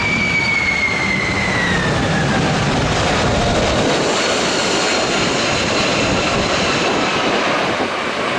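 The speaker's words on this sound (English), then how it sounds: "This Boeing 747 bounces several times during unbalanced landing." A Boeing 747 roars loudly through an unbalanced landing, its engines a broad, sustained rumble with a whining tone that slides downward early on, close and unbroken for the whole stretch.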